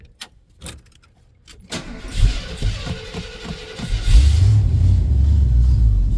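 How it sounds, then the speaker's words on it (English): A truck engine cranks over on a battery charged with a stick welder, a low rumbling churn rising after a few quiet clicks and building into a steady, loud mechanical drone that runs to the end. "See if it fires up. Cranks at least."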